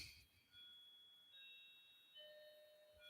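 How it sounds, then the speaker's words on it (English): A doorbell chimes softly in a few sustained electronic tones, slightly distant and quiet, with near silence around them. "there goes my doorbell again"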